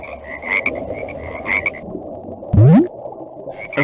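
Frogs croak close by, a few short calls early on and then one loud rising croak, over faint background chirping.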